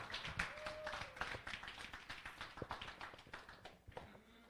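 Applause from a church youth group welcoming a first-year middle-school presenter, a quiet, steady patter of many hands clapping at a distance, with scattered sharper claps and a brief whistle-like tone near the start.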